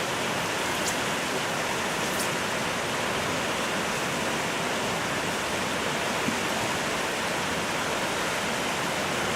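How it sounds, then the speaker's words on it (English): A fast-flowing glacial river in Alaska rushes in a steady, dense roar, close and loud, with no pauses or voices. "Dad's trying to send it in this river, but that water is going so fast."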